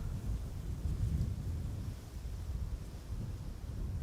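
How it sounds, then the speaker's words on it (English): A low, steady roar rumbles from an airliner's thrust reversers as it lands in a crosswind on the Polderbaan runway 18R at Amsterdam Schiphol. The sound is distant and wind-buffeted, and no one speaks. "we might also hear the reversers in a few moments"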